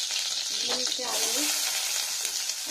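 Boiled potatoes with squeezed fenugreek leaves fry in mustard oil, a dense, steady sizzle close by with faint stirring scrapes.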